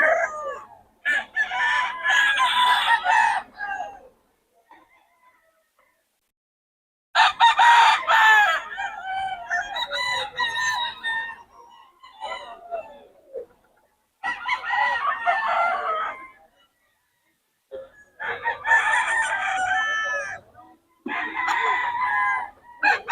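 Roosters at a market in Bocaue crow repeatedly, loud and close, in long drawn-out calls separated by short silences, with some clucking between them.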